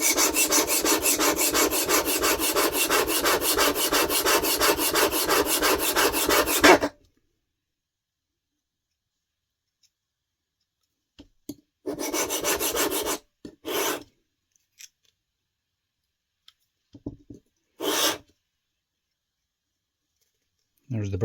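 A blade is drawn over a rough sharpening stone in fast, steady rasping strokes for about seven seconds, close and loud, followed by silence and a few short scraping passes.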